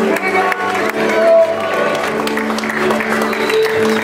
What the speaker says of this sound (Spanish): Aplausos, por favor, para esa. Muchos aplausos.